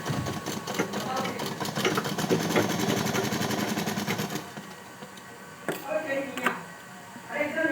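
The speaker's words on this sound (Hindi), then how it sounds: "मैंने अंदर की तरफ लेकर सीधे में सिलाई मार रही हूँ" A sewing machine runs a steady, buzzing straight seam on fabric for a baby girl's toddler top, loud and continuous for about four seconds before stopping, followed by quieter handling sounds and a voice speaking.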